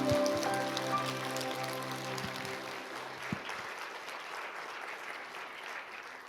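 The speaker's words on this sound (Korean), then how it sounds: "우리 영광의 박수 하나님께 올리겠습니다." A church congregation applauds at an evening Sunday service, steady dense clapping filling the room as sustained organ or keyboard chords fade out beneath it in the first half.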